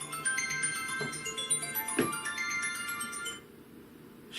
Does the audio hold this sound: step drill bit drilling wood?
no